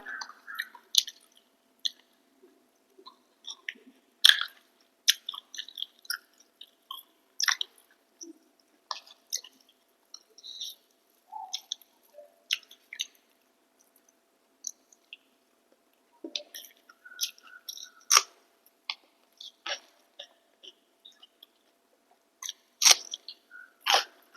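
Close, wet chewing of rice, fried fish and dry moong lentils, with soft smacks, squishes and clicks arriving in irregular bursts separated by quiet gaps, faint and intimate, with no talk.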